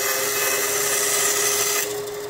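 A 10-inch Craftsman three-wheel band saw cuts through 5/8 plywood with a loud, steady whine and rasp that runs the whole time, easing off slightly near the end.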